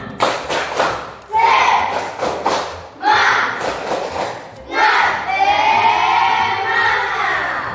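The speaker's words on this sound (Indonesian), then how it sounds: "kita beri tepuk semangat dulu. Nah, tepuk semangat." A school class does rhythmic spirit clapping, sharp clap bursts alternating with loud group chanting and shouting.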